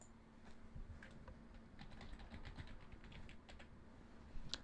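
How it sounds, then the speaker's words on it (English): A password is typed on a computer keyboard in a steady patter of light, close key clicks that run for several seconds over a faint background hum, ending with a sharper final keystroke. "I'm just going to type in my password now."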